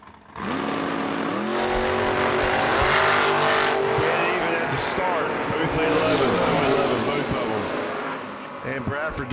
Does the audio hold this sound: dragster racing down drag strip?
yes